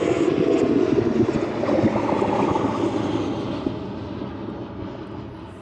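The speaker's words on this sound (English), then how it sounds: "There we go, the Jet2 service out to Palma this afternoon" A Jet2 passenger jet departing for Palma roars on takeoff at East Midlands Airport, a loud, steady engine roar that slowly fades as the plane climbs away.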